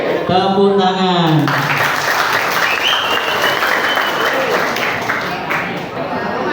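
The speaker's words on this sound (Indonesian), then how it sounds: "tepuk tangan" A crowd at a KPU outreach session and routine community meeting breaks into sustained applause. A voice calls out briefly at the start, then steady clapping continues at close range.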